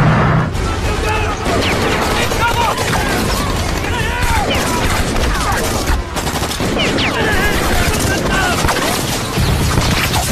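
Heavy gunfire crackles through an action movie shootout: dense, continuous volleys of shots with debris and clatter, loud and relentless throughout, with shouting voices underneath.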